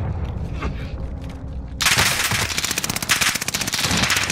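Rapid automatic gunfire from a gun in Call of Duty, loud and close, bursting in after a quieter stretch of game ambience and continuing in dense rattling volleys to the end.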